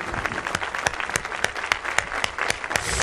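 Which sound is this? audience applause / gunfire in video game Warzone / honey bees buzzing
audience applause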